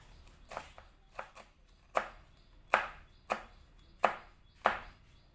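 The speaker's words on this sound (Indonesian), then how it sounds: "1 biji cabai merah besar diiris serong." A large red chili being sliced diagonally with a knife on a cutting board: seven or eight crisp, separate chops at an even, unhurried pace, close and clear against a quiet background.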